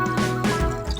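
Water poured into a cooking pot while making bitter gourd kuzhambu in a kitchen, a brief close liquid splash and trickle lasting about a second.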